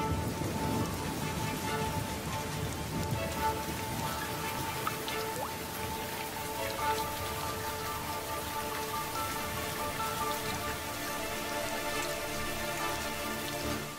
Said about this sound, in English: But when the monsoon clouds finally burst, the highlands are inundated.